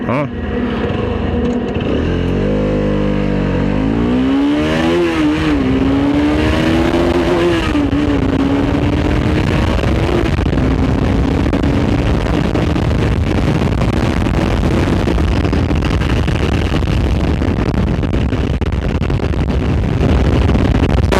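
BS6 RS 200 motorcycle accelerating hard from standstill toward 100, engine revving up through several gear changes with rising pitch, loud and close amid heavy wind rush, with someone talking over it.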